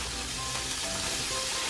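Frozen garlic frying in cooking oil, a brief close hissing sizzle, steady and crackly.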